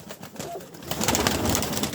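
Old-breed Andijan pigeons coo in a loft, soft low murmurs swelling over steady background noise through the short stretch, with no voices over them.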